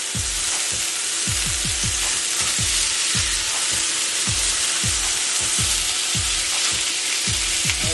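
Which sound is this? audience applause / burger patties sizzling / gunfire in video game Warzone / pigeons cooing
burger patties sizzling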